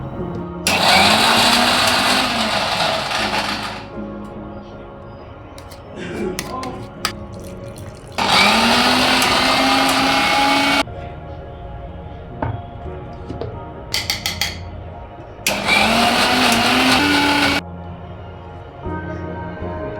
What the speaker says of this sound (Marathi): आपण कांदा खोबरं भाजलं होतं ना ते आता लगेच आपण त्या मिक्सरमध्ये बारीक करून घेऊ